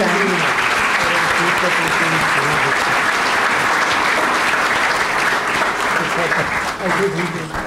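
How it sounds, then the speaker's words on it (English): A large audience at a book launch applauds continuously, a dense, steady wash of clapping that stays loud throughout. "more of a clap for Mr. Raghunathan"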